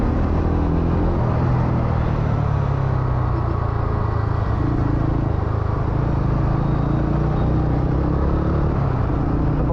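TVS Ronin 225 motorcycle exhaust while riding, a continuous close, loud low engine rumble blended with steady wind and road roar, holding a fairly even throttle throughout.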